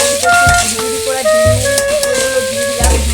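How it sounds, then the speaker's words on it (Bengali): Pasta tossed into a spicy masala in a hot pan sizzles and hisses while a spoon scrapes and knocks against the pan in a few heavy stirring strokes, close and busy. "এখন আমি পাস্তাটা এর ভিতর দিয়ে দেবো একটু নাড়াচাড়া করে"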